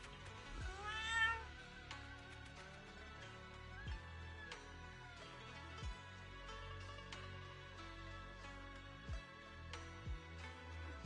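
A cat meows in the video game Zenless Zone Zero, a few short bright meows near the start set over a soft musical score with low rhythmic pulses.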